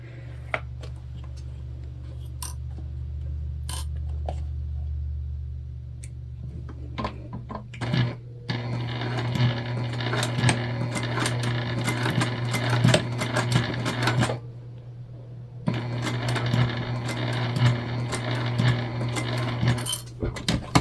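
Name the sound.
sewing machine top stitching a bag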